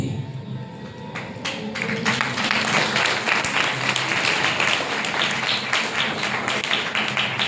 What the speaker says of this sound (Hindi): सबसे पहले किसने ताली बजाई?